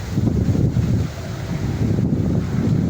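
Steady, heavy wind buffeting the microphone, a continuous low rumbling roar with gusts rising and falling throughout, no voices.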